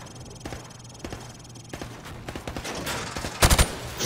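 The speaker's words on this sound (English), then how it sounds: "Now, shoot at the targets while firing from the hip." A rifle is fired from the hip at targets during a training drill in Call of Duty: Modern Warfare Remastered, with rapid repeated shots in bursts and a loud close cluster of shots near the end.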